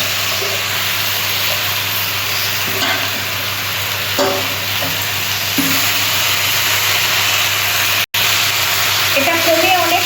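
Spinach goes into hot oil with Kashmiri chilli and spices for rui palong rosa, giving a steady close sizzle and hiss with some stirring and scraping, under a voice speaking.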